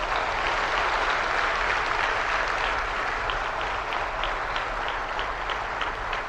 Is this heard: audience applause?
yes